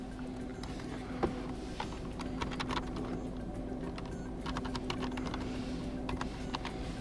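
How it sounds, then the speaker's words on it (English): Code being typed on a keyboard, a quiet run of light key clicks in irregular bursts over a faint steady hum, with no one speaking. "now type this code in your HonorSuite app"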